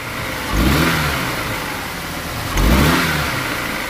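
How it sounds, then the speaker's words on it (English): A car engine with a misfire, running rough while still warming up, as the throttle is snapped twice: two loud revs about two seconds apart, each rising from idle and falling back to a rough, steady idle. "I'm gonna snap the throttle and look at vacuum"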